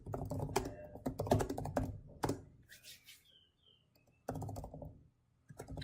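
Someone types on a computer keyboard nearby in bursts of rapid clicking keystrokes, broken by short pauses, with no talk over it.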